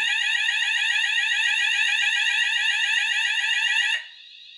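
Notifier/Hochiki ESP fire alarm sounding after a detector spray test, a loud, continuous rapid warbling electronic tone that cuts off abruptly near the end, leaving a faint residual tone.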